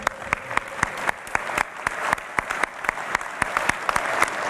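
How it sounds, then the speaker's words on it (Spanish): An audience applauds the elected president of the Chapecoense football club at a Copa Sudamericana trophy presentation, with sharp, distinct claps rising from a broad crowd patter in a sustained, fairly close burst. "Un fuerte aplauso para él."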